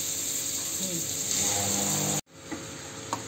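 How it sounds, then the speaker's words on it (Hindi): Grated carrots frying in ghee, a loud, steady sizzling hiss that cuts off abruptly partway through, leaving quieter kitchen noise behind. "अब मैं कद्दूकस किए हुए सभी गाजर को घी में डाल दे रही हूँ"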